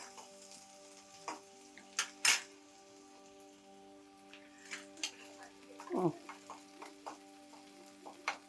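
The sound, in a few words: garlic frying in hot oil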